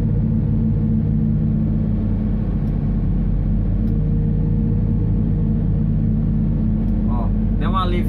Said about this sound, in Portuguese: tô aliviando o caminhão aqui sem pisar no freio, tô descendo só no freio motor